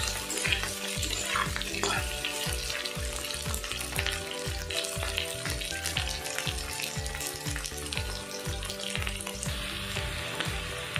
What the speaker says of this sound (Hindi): वही तेल में हम ये जो आलू उबाल के रखे थे उसको थोड़ा सा फ्राई कर लेते हैं इसी में।